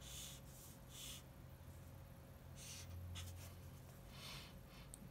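A pen draws straight lines across paper in short repeated strokes for a perspective drawing of a square, faint and close with steady background hiss and no talking.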